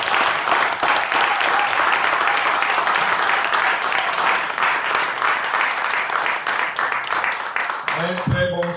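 A hall audience at a political dialogue meeting with the diaspora in Norway claps in sustained, dense applause for about eight seconds, then it fades out and a voice begins speaking.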